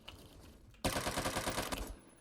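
AN-94 rifle fired in a video game: a sudden, loud burst of rapid automatic shots lasting about a second, standing alone with no talk over it.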